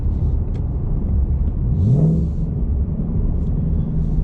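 A Ford Mustang Mach 1 in race red with a resonator delete and MBRP X-pipe exhaust drives through the city, its engine a steady, loud low rumble that swells briefly as it revs, then settles back into a continuous drone.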